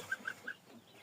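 A few soft, high peeps from ducklings and a gosling, three quick calls close together, then quiet.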